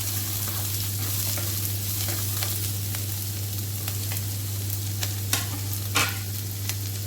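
Vegetables with garlic and chilies sauté for masala pasta in a continuous loud sizzle over a constant low hum, with a few sharp clinks of stirring near the end.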